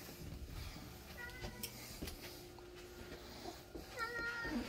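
A house cat meows softly indoors near a pet feeder, a few faint quavering calls amid quiet room noise and light clatter, with no talk.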